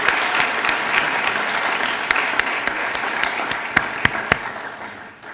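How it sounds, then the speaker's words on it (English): Sustained applause from an audience at a school sporting excellence awards ceremony, dense even clapping with a few louder sharp claps standing out near the end as it fades away. "Can we have a massive round of applause to our Sporting Excellence winners?"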